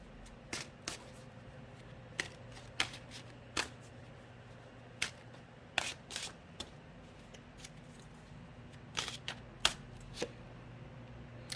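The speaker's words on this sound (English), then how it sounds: "shuffling the cards," Tarot cards are shuffled by hand at close range, a series of sharp riffling snaps and soft slides repeating at irregular intervals over a quiet background hum, with no speech.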